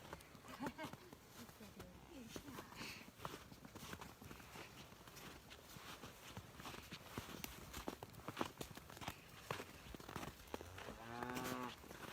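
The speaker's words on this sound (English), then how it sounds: "Oh, look, he's mooing." A cow moos once near the end at a farm animal sanctuary, low and drawn out, amid background footsteps, shuffling and people talking quietly.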